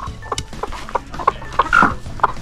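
Hens cluck inside a henhouse on a homestead with over 200 chickens, giving a rapid series of close, sharp clucks and squawks with no talk.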